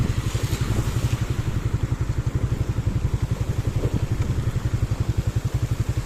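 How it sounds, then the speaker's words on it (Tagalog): A motorcycle engine runs steadily at idle, its low, regular chugging pulse close and even throughout, with no voices. "Pero mukhang ayos naman, maandar naman yung motor niya eh."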